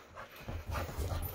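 Playful puppies excited by a box on the owner's head pant rapidly and whimper faintly nearby, a soft, breathy, continuous rhythm that grows slightly louder toward the end.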